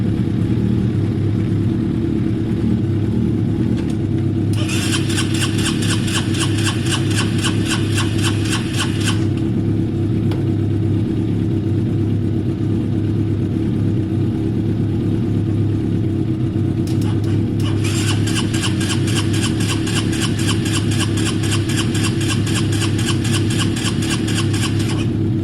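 A Honda CB250 motorcycle engine, part of a bobber project with carb work, runs steadily as a continuous close rumble for the whole stretch, with bursts of high buzzing noise layered on top twice.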